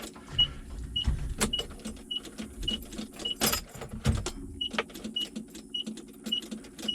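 A beater Datsun mini truck's starter clicks without cranking the engine, giving a steady series of sharp, evenly spaced ticks over low rumbling and a few louder thumps and rattles nearby.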